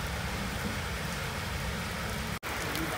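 Heavy rain pours down steadily near barges moored on a river, a dense continuous hiss that holds for the whole stretch, broken only by one very brief dropout near the end.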